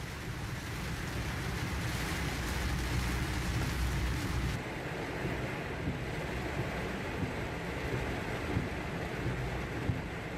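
Steady, dense roar of heavy monsoon rain pouring down in Mumbai, a constant broadband hiss with no pauses and no voices.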